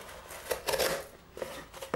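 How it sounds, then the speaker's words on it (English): Multi-tool blade chopping through cardboard, a few quick rough scraping cuts in an irregular rhythm, close and fairly faint with no voices. "Chopping through a load of cardboard and stuff."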